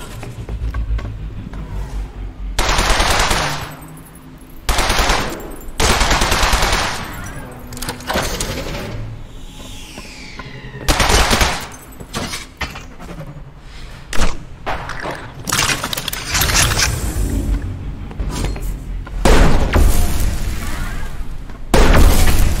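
Ambient level sound design in an Unreal Engine video game: shifting layers of booms, thuds, mechanical clatter and rumbling atmosphere that change section by section, loud and close, with no talk.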